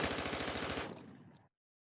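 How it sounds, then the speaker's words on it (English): A rapid burst of gunfire, several quick shots in a tight rattling sequence, loud and close, then cutting off abruptly into silence. "Give a gunshot for that"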